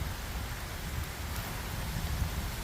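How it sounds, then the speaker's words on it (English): Steady rain falls outdoors as a dense, even hiss of drops, loud and close, with no voices. "It's actually raining now."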